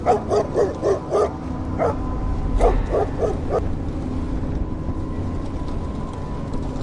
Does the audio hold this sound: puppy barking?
yes